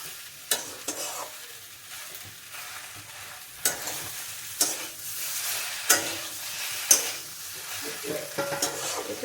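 Vegetables being stir-fried in a pan, a soft background sizzle broken by periodic scraping and clattering strokes of a utensil against the pan, fairly close with no talking.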